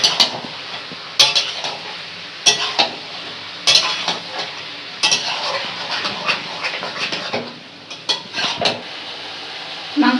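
A utensil stirs spices into mutton curry in a hot pan, with sharp scraping and clinking strikes against the metal every second or so over a steady sizzling fry, close up.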